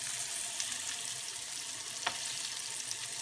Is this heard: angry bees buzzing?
no